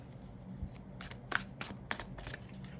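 Tarot cards, a Rider Waite deck, being shuffled close up, a few soft riffling bursts and papery slaps in quick succession against a quiet room.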